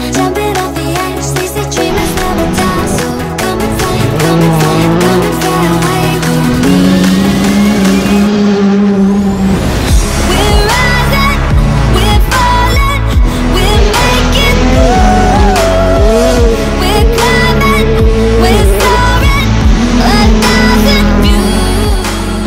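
A rally car on a gravel stage, its engine screaming loudly and close as it races past at high revs, the pitch sweeping sharply as it passes and then continuing to roar.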